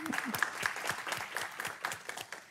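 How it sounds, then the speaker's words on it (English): Council meeting audience applauds with steady, fairly quiet clapping from a crowd. "All right, Mom and Grandma, give them a round of applause."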